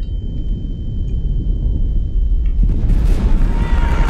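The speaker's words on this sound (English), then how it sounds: "There's shells firing from the sky" Artillery shells bursting on a battlefield in the Roblox game Centaura, a steady low rumble with heavy thuds that swell louder toward the end, plus a thin high tone throughout.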